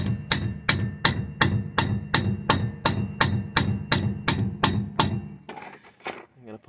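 A bushing is driven into a trailer leaf spring by hammering on a 2x4, about fifteen sharp, evenly spaced wooden whacks close by, then a few softer knocks as someone speaks.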